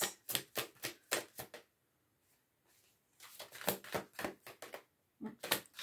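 Quick bursts of crisp riffling, like cards being shuffled, come in two rapid runs separated by a short quiet pause.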